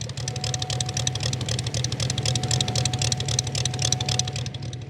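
Moki radial engine on an RC model plane at a fun-fly event, running steadily with a continuous low throbbing drone and rapid rattling pulses throughout, fairly loud and with no talk over it.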